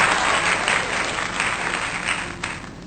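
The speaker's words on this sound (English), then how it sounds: "I need a round of applause." A round of applause from an audience, steady dense clapping that holds at a fairly even level before thinning slightly at the end, with no voices over it.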